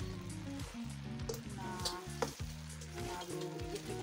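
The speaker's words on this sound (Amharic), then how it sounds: "እና እየተቁላላ ነው።" Green cabbage frying in a pan gives a steady, close sizzle with soft crackles, running continuously over a low tonal background.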